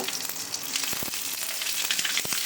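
Mustard seeds, fennel and green chili crackle in hot oil, a close, steady sizzle with sharp popping bursts.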